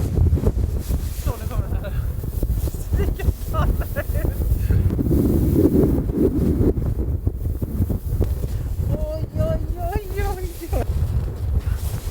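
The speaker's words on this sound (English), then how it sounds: "It's very windy outside" Heavy wind from a snowstorm in Svalbard buffets the microphone in loud gusts, with a person talking over the roar.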